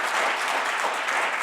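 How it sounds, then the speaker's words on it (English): A conference audience at a gender wealth gap event applauds its panelists, a dense, even, close burst of clapping throughout. "I think we should give our panelists a round of applause."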